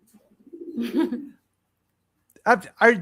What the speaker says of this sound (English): are you in the room with the birds?